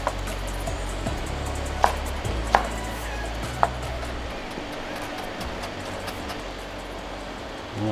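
A knife chops chili peppers and shallots on a board as a few distinct sharp taps over a steady background hum, with no talking.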